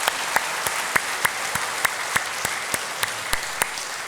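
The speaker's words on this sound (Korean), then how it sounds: "우리 사모님 빨리 회복되시라고 우리 박수로 격려하겠습니다" A church congregation claps together in steady, sustained applause, dense and even, with a few louder rhythmic claps standing out at regular intervals.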